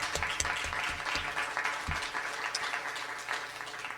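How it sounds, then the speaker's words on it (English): Audience at a school district governing board meeting applauding staff members, a full round of clapping with some louder individual claps early, continuing steadily and tapering slightly toward the end. "I'm going to give you a round of applause for all of their hard work"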